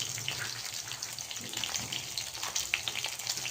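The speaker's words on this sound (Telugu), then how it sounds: "పల్లీని లో ఫ్లేమ్లో కొంచెం గోలనివ్వాలి." Peanuts frying on a low flame with green chilies and curry leaves, a dense, continuous crackling sizzle with scattered pops, close and fairly even throughout.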